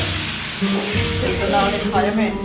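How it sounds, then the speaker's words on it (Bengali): Potatoes and vegetables frying in a pan for chowmein at home, a steady close sizzle running throughout with voices talking over it. "দেখো ভাজা চলছে।"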